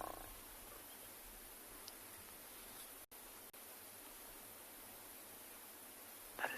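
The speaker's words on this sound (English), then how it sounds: "Ooh, listen to the growls." A low, continuous rumbling growl-like purr from a large cat, steady and close against a hissy background, with a brief rustle near the end.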